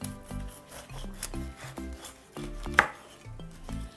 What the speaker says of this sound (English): you're going to cut off the head of the pineapple first